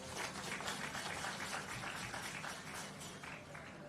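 Audience applause at an outdoor groundbreaking ceremony for an urban centre, a steady dense wash of many hands clapping that keeps an even level from start to finish, with no voices rising above it.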